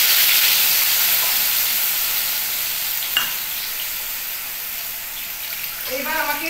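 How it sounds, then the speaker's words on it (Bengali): Ingredients and a splash of water going into hot oil for a paneer gravy, giving a loud, steady sizzle and hiss that slowly settles, with a faint stirring clatter near the end. "এই তেলটা আমার যেহেতু গরম হয়ে গেছে, এর মধ্যেই আমি দিয়ে দিচ্ছি, সঙ্গে একটু জলও অ্যাড করলাম"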